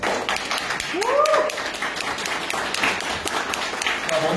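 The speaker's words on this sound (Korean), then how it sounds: "여러분 큰 박수 부탁드리겠습니다." An audience claps for lawyers being introduced at a blockchain law event, a steady moderate patter of many hands with a short whistle-like tone early on and talk mixed in.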